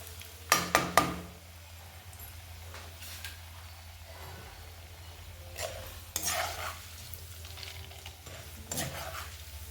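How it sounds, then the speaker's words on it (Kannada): Mustard seeds and chana dal fry in hot oil with a low, quiet sizzle, while a few sharp utensil clinks ring out near the start and again around the middle. No one speaks. "ಸಾಸಿವೆ ಸಿಡಿದಿದೆ ಕಡಲೆಬೇಳೆ ಕೂಡ ಸ್ವಲ್ಪ ಇವಾಗ ಕಲರ್ ಟರ್ನ್ ಆಗುತ್ತೆ ನೋಡಿ"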